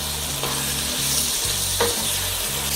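Beef sautéing in a hot pan, seasoned with salt and pepper, with a steady loud sizzle and a few scraping stirs of a utensil, no talking.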